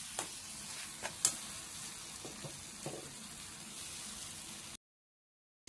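Kochu loti (taro stolons) sautéing in a pan give off a steady close sizzle, with a few sharp scrapes and clicks of stirring, before the sound cuts to silence near the end.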